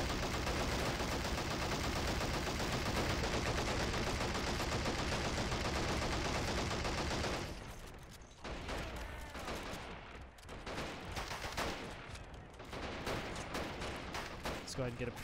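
A machine gun firing in the video game Men of War: Assault Squad 2 during a Pacific invasion battle, with a long, loud unbroken stream of fire followed by scattered bursts and distant combat.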